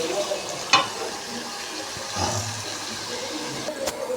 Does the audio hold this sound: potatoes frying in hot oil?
yes